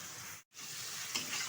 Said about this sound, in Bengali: বেশ কিছুক্ষণ মশলাটা কিন্তু নেড়ে চেড়ে নিয়েছে, আর মশলা থেকে কিন্তু তেল ছাড়া শুরু হয়ে গেছে